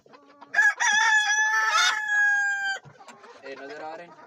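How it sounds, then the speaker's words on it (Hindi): Australorp hens and a rooster in a backyard flock of about seventy birds, with a long loud rooster crow followed by softer clucking from nearby hens, no talk. "ये देखें, ऑस्ट्रेलो मुर्गी है और इसके अंदर मुर्गा भी है"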